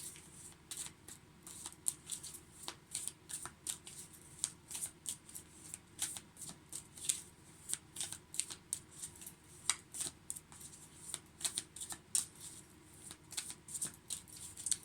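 Shadow work oracle cards being shuffled by hand, a steady run of soft papery riffles and flicks close to the mic, repeating throughout with no talking.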